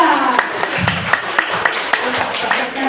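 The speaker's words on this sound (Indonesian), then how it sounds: "Berikan tepuk tangan ya" At a teachers' training session, a small audience gives a brief round of scattered, fairly close hand claps in an uneven rhythm, with faint voices underneath.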